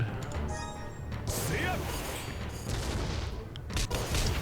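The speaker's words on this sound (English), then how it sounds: "Let's just go ahead and go straight for a lava impact" A fiery lava impact attack in the Another Eden battle game erupts in a dense volley of crashing, booming hits and crackling bursts, loud and sustained over the few seconds.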